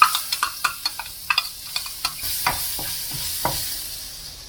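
Garlic sizzles in a hot pan for egg fried rice, with a string of sharp scraping stirs over a steady frying hiss, close and fairly loud.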